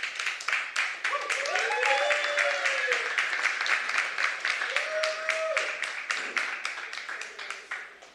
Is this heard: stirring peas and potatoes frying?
no